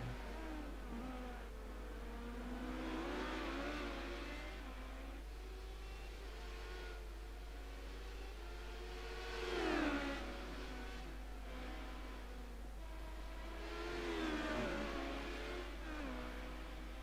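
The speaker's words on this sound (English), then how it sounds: "I'm just going quiet to listen to these roars of the Honda engines" Honda-powered HPD LMP2 prototype race cars in a sim racing game, engines droning and revving steadily with rising and falling pitch as cars pass, swelling louder a couple of times over a constant hum.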